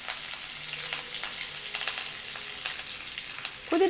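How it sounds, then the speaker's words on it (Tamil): Mustard seeds, dried chillies, cumin and curry leaves sizzle in hot oil for a mint chutney tempering, a steady close crackle with scattered tiny pops throughout. "இப்போ தாளித்து ஊற்றிடலாம்."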